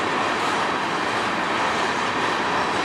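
A CN freight train with locomotives passing close by, a loud continuous rumble and roar of rolling cars that holds steady the whole time, with no voices.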